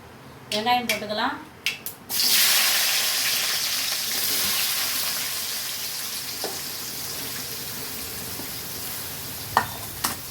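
Onions hit hot oil in a pan and burst into a loud, close sizzle that settles into a steady hiss, with a few stirring clinks near the end; a voice speaks briefly just before the onions go in.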